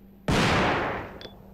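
A single loud, sharp gunshot at a door in the video game Resident Evil 2 cracks out and decays over about a second, followed by a faint brief click.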